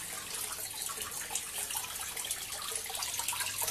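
Water drains out of a bottle in a solar-heater autoflush setup, a steady close trickle and splash that runs unbroken throughout with no voices.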